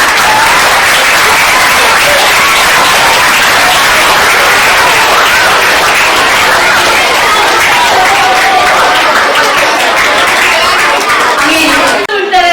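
Sustained loud applause from a school audience at a charity event, dense steady clapping filling the whole stretch, with some voices mixed in before it tapers at the end.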